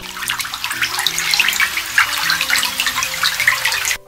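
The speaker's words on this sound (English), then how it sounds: "and I have rain on water." A soundboard effect of rain falling on water, a steady dense hiss of patter and splashes that runs for several seconds, then cuts off abruptly.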